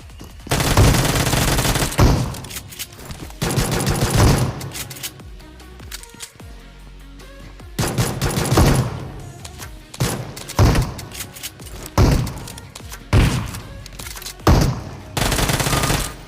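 Shotgun blasts and bursts of gunfire in PUBG on the Erangel map come in loud, close clusters separated by short quiet gaps, with no voices.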